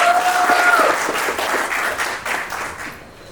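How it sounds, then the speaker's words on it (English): Audience applause at a merchants meetup, a sustained round of clapping from a crowd that slowly thins and fades near the end, with a brief feedback-like tone early on. "Please let's give them another round of applause."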